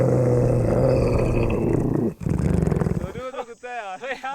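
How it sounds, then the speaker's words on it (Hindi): A dog growls low and rumbling in a forest for about two seconds, then people talk nervously close by. "ओए ये तो कुत्ता था यार"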